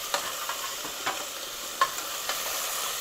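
Whole spices such as cinnamon and cloves crackle in hot ghee while tempering for a South Indian ghee rice pilaf, giving soft sizzling with a few sharp pops and a spoon stirring against the pan.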